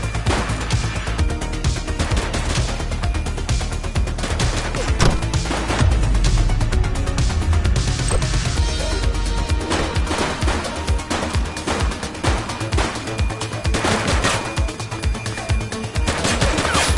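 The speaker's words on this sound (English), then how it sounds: "He's shooting!" Sustained gunfire in the police game The Precinct, with dense, continuous bursts and rattling automatic shots that stay loud and close for the whole stretch, no voices over it.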